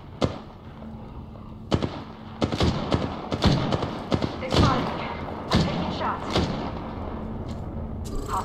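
In the video game Apex Legends, a care package drops with a series of heavy thuds and booming impacts spread over several seconds, loud and close, mixed with game effects and voices.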